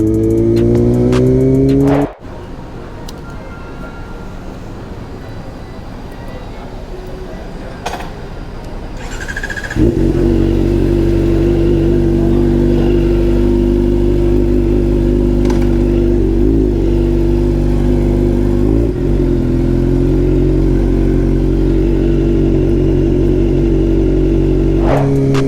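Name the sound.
Kawasaki ZX-4RR motorcycle engine revving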